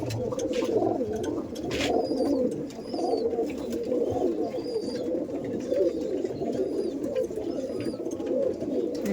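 Madrasi pigeons cooing in a loft, a steady close chorus of low rolling coos layered over one another, with faint higher chirps from other birds in the background.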